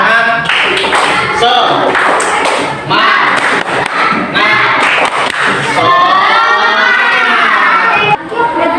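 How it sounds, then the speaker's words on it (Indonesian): Classroom children doing a rhythmic clapping cheer together, loud close claps and thumps mixed with excited shouting voices, a chant carried along over the beat. "tepuk semangat"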